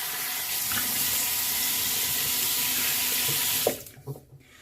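A bathroom tap runs steadily into a sink as a face is rinsed after a razor shave, a close, even rush of water that cuts off near the end, leaving a few drips and faint clatter.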